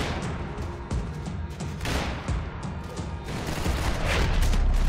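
Dense bursts of gunfire crackle and boom continuously in Max Payne 3, with heavier blasts mixed in, like a busy game battle.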